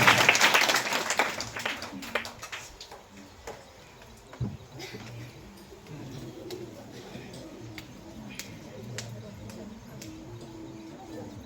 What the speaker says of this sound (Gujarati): જોરદાર તાળી ગડગડાટથી વધાવીશું